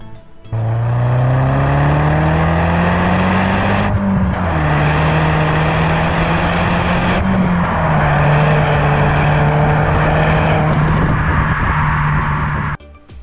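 Audi TT MK1 (8N) engine running loud and close for about twelve seconds, with rising harmonic engine tones that dip at gear changes around four and seven seconds, then hold steady before cutting off.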